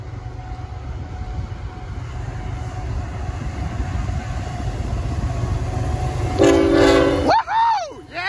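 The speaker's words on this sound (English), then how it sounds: "Yeah, you honk the horn!" A freight train rumbles steadily past near a baseball park on Lyndon Road in Fairport, New York, then sounds its horn in a loud, close blast near the end while a voice cheers.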